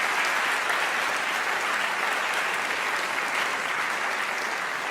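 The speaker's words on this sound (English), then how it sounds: "I just want to invite one more round of applause for Robert Rosencrantz for making this possible." A packed audience applauds at a public debate between atheists and Christians, a thick, unbroken wash of clapping that holds at a steady level from start to finish without speech.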